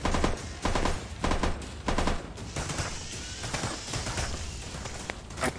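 Bursts of rapid gunfire in a multiplayer shooter game come in short, loud volleys every half second or so, then settle into steadier, quieter shooting.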